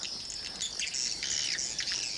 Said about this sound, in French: Il y a encore le son des hirondelles dans l'oreille.